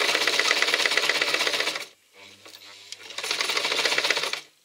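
Sewing machine stitching Velcro onto a fabric pouch, two steady bursts of rapid mechanical stitching with a short quiet pause between them, close and loud.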